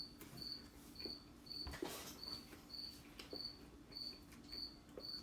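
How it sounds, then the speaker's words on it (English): A cricket chirps indoors in short, evenly spaced pulses that repeat steadily and faintly against a quiet room hum. "This cricket needs to stop living, guys."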